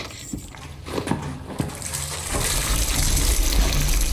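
Water pouring during a waterboarding interrogation scene in Call of Duty: Modern Warfare (2019), a steady gushing splash that swells and continues loudly, with faint muffled sounds beforehand.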